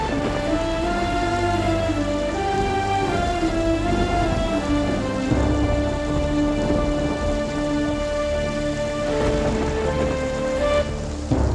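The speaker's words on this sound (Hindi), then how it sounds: "मुझे बारिश एंजॉय करनी है।" Heavy rain pours steadily from start to finish, with low thunder rumbles and sustained musical tones layered over the downpour; no one speaks.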